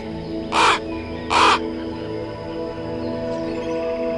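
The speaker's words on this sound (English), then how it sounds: "Cawing from high in the treetops, a clever blackbird watches for food and danger alike." Two loud, harsh caws from a crow-like blackbird high in Congo rainforest treetops, evenly spaced about a second apart, then a steady hum of ambient forest background with no further calls.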